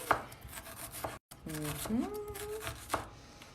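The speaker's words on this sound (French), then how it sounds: "Donc là, on va couper comme ça." Knife chopping a vegetable finely on a board for a white asparagus, endive and pear salad, with a run of quick cuts under nearby talk and a brief silent gap.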